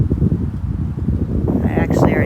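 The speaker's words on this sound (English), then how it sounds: "You can see how windy it's gotten." Strong, gusty wind at a lakeside campsite on a fall canoe trip in Killarney, buffeting the microphone in a constant low roar with leaves rustling, and a brief voice near the end.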